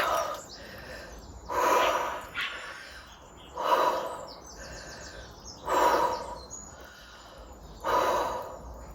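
Heavy, deep breathing comes up close after a dip in a cold pool, in slow regular bursts of inhale and exhale about every two seconds, with no talk.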